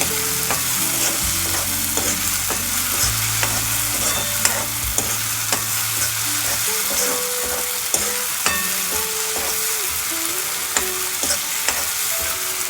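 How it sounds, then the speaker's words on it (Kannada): Chopped tomato frying in a pan while ragi shavige upma is being prepared, giving a steady close sizzle with repeated scraping and stirring strokes of a spoon, and no voices. "ಟೊಮೆಟೊ ಚೆನ್ನಾಗಿ ಫ್ರೈ ಆಯಿತು."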